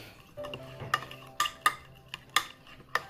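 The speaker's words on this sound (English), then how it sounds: "And let's mix these ingredients" Mayonnaise, lime juice and seafood stuffing ingredients mixed in a bowl for stuffed lobster tails, with several sharp utensil clicks and scrapes against the dish over a quiet background.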